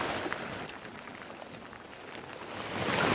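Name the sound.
rain falling during a safari drive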